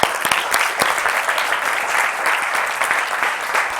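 Church congregation claps hands together, a dense, continuous burst of many hands clapping that stays steady and loud throughout.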